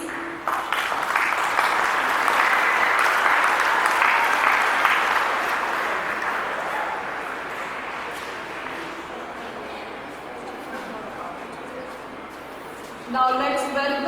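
Audience applause at a school investiture ceremony, a broad crowd clapping that swells early, slowly fades over several seconds, and gives way to a brief voice near the end.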